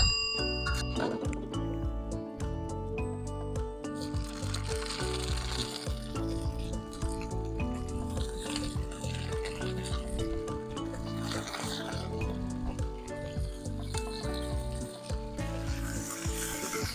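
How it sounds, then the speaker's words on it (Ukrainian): Lamb meat sizzling on a hot saj pan over rendered tail fat, a steady bright crackle and hiss running throughout, with someone talking over it. "У нас сач нагрітий, опускаємо м'ясо."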